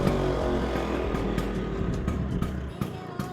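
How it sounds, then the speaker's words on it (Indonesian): A 1978 Vespa Sprint 150 classic two-stroke scooter engine runs close by, a loud, steady idle with a rough low throb and mild rev fluctuations throughout. "suara khas motor klasik, yaitu motor Vespa Latin Sprint 150 tahun 78"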